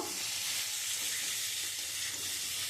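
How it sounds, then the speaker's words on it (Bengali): Green banana, potato and onion fry in hot oil in a pan, giving off a steady, close, unbroken sizzle with no talking. "আমি লাল লাল করে একটু ভেজে নেব,"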